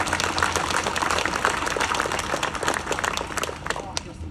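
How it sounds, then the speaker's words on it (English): Crowd at a gun rally in Western Australia applauding, a dense wash of clapping sustained for several seconds with voices mixed in. "Give yourself a huge round of applause."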